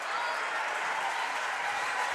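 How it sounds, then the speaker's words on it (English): A hometown basketball crowd in a gym gives a player a warm ovation as he leaves the court, steady broad applause from many hands filling the space at an even level, with no break. "the hometown crowd gives Cameron a nice ovation as he goes off"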